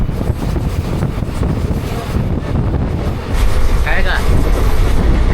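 Interior of a moving passenger train, a loud continuous rumble with rattling and wind-like rushing that swells louder partway through, with a brief higher squeal near the end.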